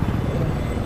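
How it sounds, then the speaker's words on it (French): An enemy helicopter in a video game thrums as a low, steady rotor rumble, sounding moderately close and continuous without any talk over it. "Hélico ennemi aperçu."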